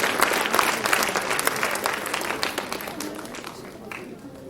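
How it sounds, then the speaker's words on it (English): Sustained applause from a school audience honoring academic award winners at an annual day celebration, dense steady clapping filling the hall and tapering slightly toward the end. "Louder applause, please."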